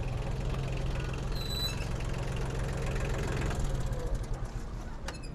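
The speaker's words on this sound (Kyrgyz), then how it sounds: "Кыскасы бул трактор ишке даяр экен." A mini tractor's engine idles nearby with a steady, low, even chugging that holds its pace throughout, plus a brief high whine early on and a faint click near the end.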